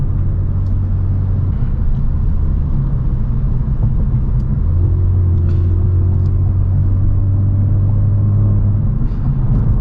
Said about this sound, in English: you are able to hear a little bit of drone just from giving it a little bit more throttle input